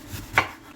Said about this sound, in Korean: 칼질이 서투신 분들은 여기 이렇게 한번 잘라내시고 이렇게 고정을 한 다음에 써시면 조금 편해요.